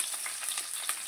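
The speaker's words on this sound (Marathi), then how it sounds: "कांदा आपण तळून घेऊया।" Onion fries in hot oil with bay leaf and whole spices, giving a close, steady, bright sizzle with light crackling pops throughout, without any talk.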